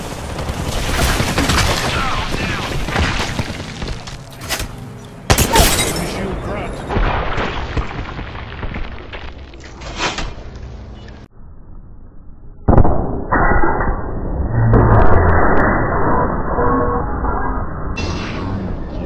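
Dense gunfire and bursting impacts from the Apex Legends battle royale, loud and nearly continuous with sharp cracks and booms, dropping briefly before a steady electronic shield-recharge hum; game voices speak over the action.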